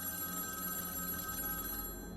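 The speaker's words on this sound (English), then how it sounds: "I jumped with fright when I heard the ringing" An old, dust-covered red phone mounted on a living-room wall rings in a continuous metallic trill, steady and fairly quiet, with no voices.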